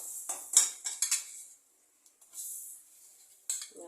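Washed sun-dried mango pickle pieces tumble into a pan with the stove switched off, giving a string of light clinks and scrapes of metal and cutlery, a short pause, then a few more soft clatters, close and alone.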